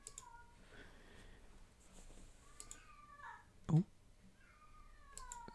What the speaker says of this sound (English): Sounds like we have a Yowly kitty